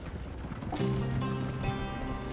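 Horse hooves in the Red Dead Redemption 2 video game, a steady clip-clop of a mount setting off and running, fairly close and continuous with no talk.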